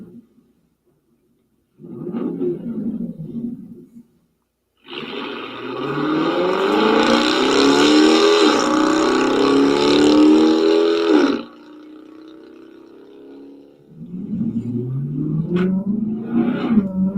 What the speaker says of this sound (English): This Flowmaster American Thunder is perfect for the person looking for an aggressive exterior and moderate interior sound